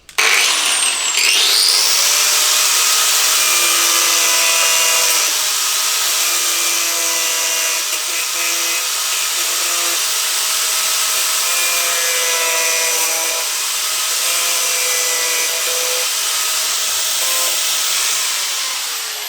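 A power tool cuts slots into a Honda CBR125R motorcycle part, a loud continuous high-pitched grinding whine with shifting tones as the blade bites, close and steady for the whole stretch with no talking.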